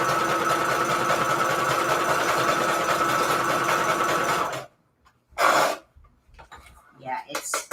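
A sewing machine runs steadily for about four and a half seconds with a rattling, dusty bobbin cage, loud and close. It then stops, and a short burst of noise and faint movement follow.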